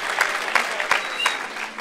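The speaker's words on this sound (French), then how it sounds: "Oh, on l'applaudit s'il vous plaît" Audience applause at a morning gathering, a short burst of brisk, closely spaced clapping with a few louder individual claps standing out, moderately loud and fairly near.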